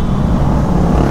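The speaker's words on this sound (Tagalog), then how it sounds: "Ang ingay ng ano, busina at yung motor nila." Motorcycles ride through Kaybiang Tunnel on the Nasugbu-Ternate Highway in Maragondon, Cavite, making a loud, continuous, close engine and road rumble with no distinct horn blasts.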